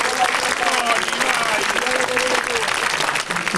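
Audience applause at an outdoor evening poetry event, honoring local mule drivers of Cappadocia, a dense steady wash of clapping from a crowd with voices mixed in, continuous and loud throughout.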